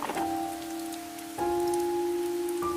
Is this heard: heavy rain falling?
yes